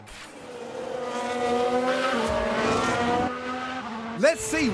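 A Ferrari race car in F1 Manager 22 locks its brakes, with engine whine running throughout and a sharp tire squeal near the end. A commentator talks over it.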